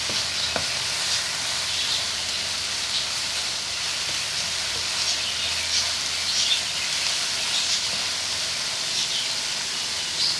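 Rice stir-fried and mixed in a hot pan for Chinese fried rice, with white pepper, black pepper and green onion added, gives a steady close sizzle that hisses evenly throughout with faint scraping.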